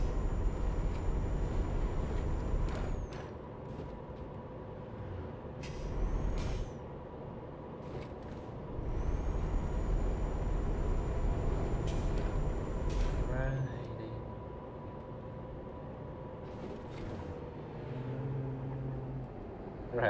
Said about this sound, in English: You can literally hear the truck fighting uphill